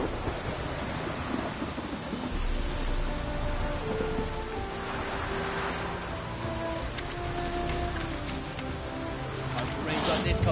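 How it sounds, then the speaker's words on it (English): Steady rain hisses across a stormy scene in The Witcher 3, with low rumbling thunder beneath it and voices and game music running through the continuous downpour. "Hope rains like this come sowing time."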